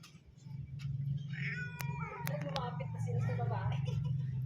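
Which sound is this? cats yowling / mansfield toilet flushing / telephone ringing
cats yowling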